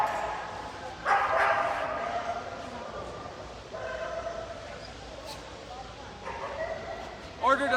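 Dogs bark and yip in bursts at a dog handling workshop, moderately close over a murmuring indoor background with people talking.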